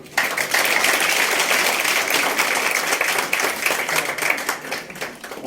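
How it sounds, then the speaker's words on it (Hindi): Sustained audience applause at a Hindi book launch ceremony for Dr. Shahida's poetry collection, dense and steady clapping from a crowd at close range, holding loud throughout and tapering slightly near the end. "पुस्तक के विमोचन के लिए आपकी तालियां"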